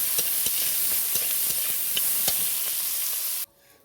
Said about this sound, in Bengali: পরে তেলেতে একটু রসুন বেট করা, এবার আমি লাল লাল করে একটু ভেজে নেব